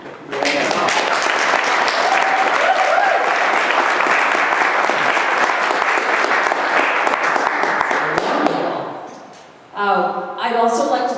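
Loud, sustained audience applause for a pianist at a museum talk and performance, dense clapping filling the room for about nine seconds before dying away, followed by a speaker's voice.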